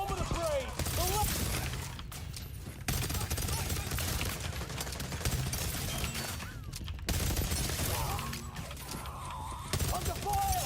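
Rapid automatic gunfire rattles on and off in The Division Resurgence, dense bursts of shots with shattering debris and game combat voices shouting over the action.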